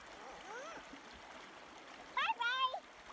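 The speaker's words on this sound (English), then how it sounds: "Right now, we're gonna enjoy the river" A river flows through a temperate rainforest as a soft, steady wash of moving water, with a voice and adult chatter and laughter rising over it near the end.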